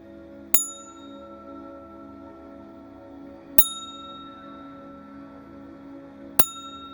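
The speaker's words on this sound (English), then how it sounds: "this kind of bell is to bring in the ancestors" A ceremonial bell is rung to call in the ancestors, giving three bright, ringing strikes spaced a few seconds apart over a faint background hum.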